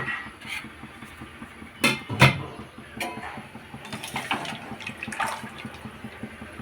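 Two glasses of water are poured into a pot of sambar, a soft intermittent splashing and trickling close by, fairly quiet against light background noise.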